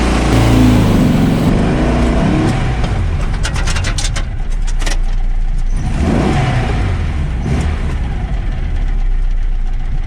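A motorbike engine idling and revving in a yard, loud and close, with a steady low rumble throughout, a rev that rises and falls early, and smaller throttle blips later, with no talk.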